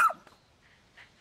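A space dog puppy in the video game Pikmin 4 gives one short, bright yelp at the start, followed by faint soft snuffles and a quiet whimper.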